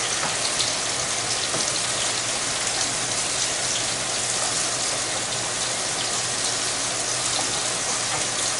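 Bacon grease in a hot pan sizzles steadily after a splash of white wine for deglazing, a dense, even hiss held at constant loudness throughout with no voices.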